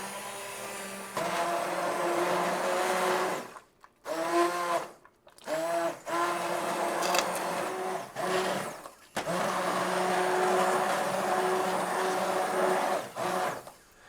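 An immersion blender whirs steadily through sweet potato coconut curry soup in a pot, its motor drone briefly cutting out and restarting several times before running on continuously.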